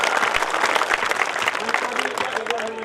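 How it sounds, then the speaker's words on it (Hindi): An audience at a Kavi Sammelan poetry gathering in Bhinmal bursts into loud, dense applause, many hands clapping together close up, while a voice speaks over it. "एक बार पूरा सदन जोरदार तालियां बजा के मुझे बताएं।"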